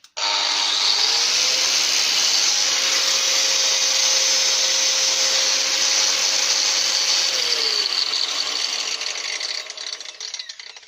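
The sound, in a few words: Hikoki angle grinder running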